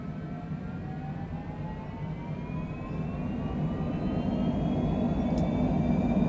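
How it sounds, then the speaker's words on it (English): Twin jet engines of a Cessna Citation Longitude at takeoff power in Microsoft Flight Simulator 2020 give a steady loud roar with rising whining tones, slowly building as the aircraft accelerates down the runway. "Takeoff power is set."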